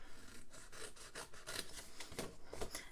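Close, quiet rasping strokes as a paper craft block is cut along its score lines, with a soft rhythmic scraping repeated several times and no voices.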